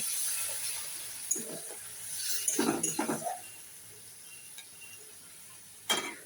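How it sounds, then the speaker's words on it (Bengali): Onions frying in a pan, with a faint low sizzle. A splash of water brings a short, louder burst of crackling hiss partway through, and then the pan settles back to a quiet simmer. "আমার পেঁয়াজটা দেখো ভাজা হয়ে গেছে, নিচে ধরেই যাচ্ছে। একটু জল দিই"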